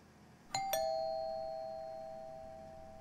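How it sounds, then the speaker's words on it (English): A doorbell rings in the horror video game Fears to Fathom, two quick chimes struck close together, their clear tone lingering and slowly fading with no voices. "Why is he ringing the bell again?"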